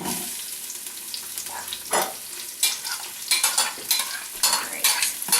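Onions sauté in an Instant Pot on its sauté function for an Indian lentil dal, a close sizzle punctuated by repeated bursts of stirring and scraping against the inner pot.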